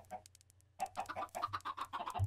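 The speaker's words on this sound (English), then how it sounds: "These chickens are like, oh my god," Chickens clucking in the Minecraft video game, a run of short pecking game-animal calls that grows busier and louder partway through, with no talk over them.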